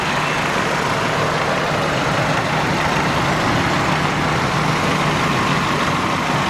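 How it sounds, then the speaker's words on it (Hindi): A Nissan Sunny running on CNG idles with its engine on, a steady, even rumble that holds unchanged throughout with no talking. "ये गाड़ी स्टार्ट है और आप आवाज़ सुने"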